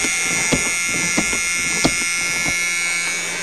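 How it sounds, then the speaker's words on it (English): The warning buzzer of a 1976 Chrysler New Yorker sounds at a snowy cold start, a steady, loud electric drone held throughout with a few faint clicks and knocks beneath it. "Horrible buzzer."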